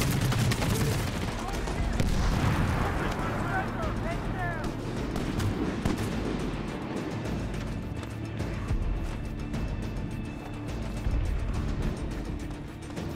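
Gunfire in Medal of Honor: Warfighter, a dense, continuous battle din of overlapping shots and rumbling blasts that fills the whole stretch. A voice talks faintly underneath.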